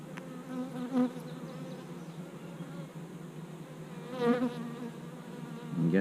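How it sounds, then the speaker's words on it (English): Honey bees swarm and buzz around an opened hive, a steady close hum with individual bees passing loudly near the microphone now and then; faint voices are barely present. "There's bees everywhere."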